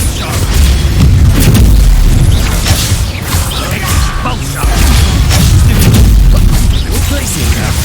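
A Bombarda spell blast in the Hogwarts Legacy video game: loud, dense booming bursts and rumbling impacts in a continuous heavy barrage amid game effects, with voices mixed in.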